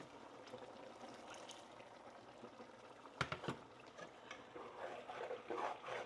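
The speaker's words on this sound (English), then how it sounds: "we're going to go ahead and add a little bit of water" Water poured into a pan holding browned organ meat puree, a soft steady trickle and splash with a brief louder burst midway, close and fairly quiet, no talk.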